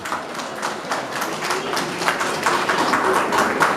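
An audience at a school annual award ceremony applauds with a sparse, uneven patter of hand claps that thickens slightly toward the end, moderately loud in a hall.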